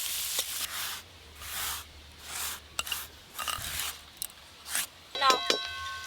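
Chopped onion, ginger and garlic fry in a pan with soft, intermittent sizzling bursts, broken by spoon scrapes and stirring knocks, close and moderately quiet.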